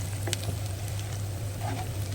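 Onions frying in a pan with turmeric and salt, a steady close sizzle with faint stirring clicks and a low hum beneath, no talk.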